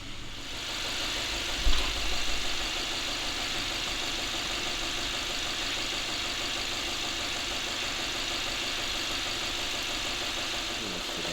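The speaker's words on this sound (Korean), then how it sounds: "엔진에서 까라락 하는 그런 노킹 소리가 많이 난다고 하시는데" A Kia K5 with a 2.0 turbo GDI engine, showing a lit check-engine light after refueling, idles with a steady close drone and a harsh rattling knock throughout, with a brief thump near the start.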